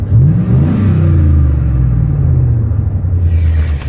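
Inside the cab of a Chevy Silverado 1500 with a muffler delete, a loud, low exhaust rumble swells briefly and then settles into a steady drone while driving.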